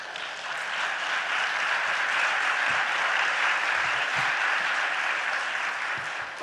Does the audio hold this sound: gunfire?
no